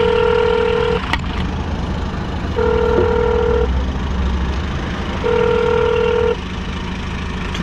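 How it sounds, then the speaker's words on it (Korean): Phone call being placed from inside a car while out on designated-driver work, with three long tonal beeps spaced evenly over a steady low road and engine hum, no talking. "전화 한번 때려보겠습니다."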